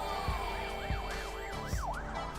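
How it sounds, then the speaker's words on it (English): A wailing siren in a video game rises and falls in a steady repeating pattern, fairly loud, over a low rumbling background with a few thumps. "A siren sounds far too close for comfort."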